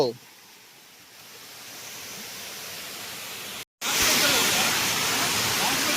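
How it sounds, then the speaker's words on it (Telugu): A waterfall in the Nallamala forest roars as a broad, steady rush that grows louder partway through, breaks off briefly, then returns close and strong. "అదిగోండి వాటర్ ఫాల్స్"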